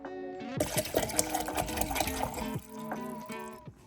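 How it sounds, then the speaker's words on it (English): Water pours steadily into a bottle, the pitch rising as it fills, then the flow cuts off. "I'm gonna fill up my water."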